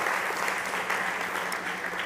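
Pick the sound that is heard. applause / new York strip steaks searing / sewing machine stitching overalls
applause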